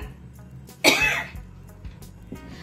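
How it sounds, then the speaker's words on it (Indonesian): A single sharp, close cough, followed by a moment of quiet with faint background noise. "aduh batuk ini"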